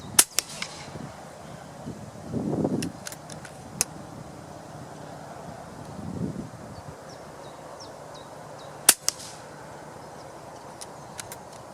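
An FX Crown MKII air rifle fires 23 grain Javelin pellets at a 30 m target outdoors. Short, sharp snapping shots come a few seconds apart over a faint breezy background.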